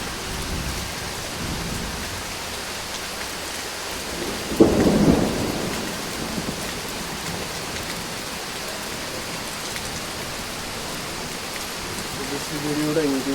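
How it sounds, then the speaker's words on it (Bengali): Steady heavy rain pours in a natural outdoor setting, with one brief rumble of thunder cracking through about a third of the way in. Faint voices sit low under the continuous hiss. "হ্যাঁ বৃষ্টি"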